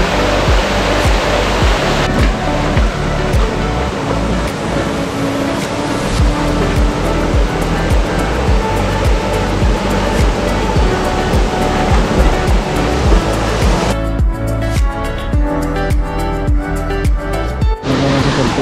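Loud waterfall at a hidden spot near Dehradun, a dense continuous roar of crashing water heard up close, steady throughout with no voices.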